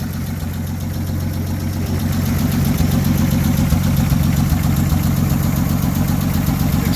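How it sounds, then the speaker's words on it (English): A cold 1947 Dodge flathead six sits idling and huffing from its breather, an even nearby chugging rumble that rises a little and holds steady, with no voices. "Look at this thing huffing out of the breather. It's not even warmed up yet."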